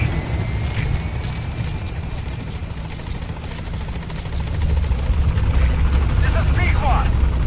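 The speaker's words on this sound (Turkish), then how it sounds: "Halihazırda hemen helikopteri de çağırıyorum." A helicopter arriving in the video game Metal Gear Solid V: The Phantom Pain, its rotor chop thumping steadily and growing louder as it nears, with someone talking over the game sounds.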